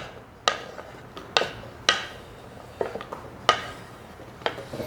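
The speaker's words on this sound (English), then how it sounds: "So I've got my two carrots, and I'm going to put those in my bowl." Thin carrot slices drop into a bowl with a series of separate sharp clinks and taps, about six spaced hits with short ringing tails, close and alone.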